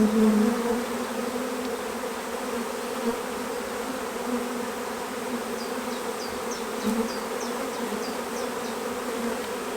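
Honey bees hum steadily and closely around open hive frames heavy with nectar, a dense, continuous buzz with faint high chirps toward the end.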